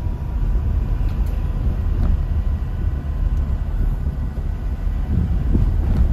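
Steady wind buffeting and low road rumble roar through a half-open window of a moving 2022 Toyota Innova, a constant dense wash of noise with no talking.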